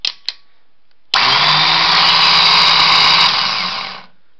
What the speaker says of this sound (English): you'll see the motor spin